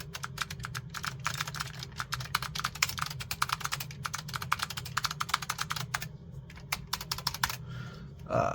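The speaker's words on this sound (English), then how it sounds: "I love the Alps keyboard. It's just sounds so awesome." Rapid, continuous clicky typing on an Alps-switch mechanical keyboard of an Apple IIc, close and crisp, with a low steady hum underneath and a brief pause near the end.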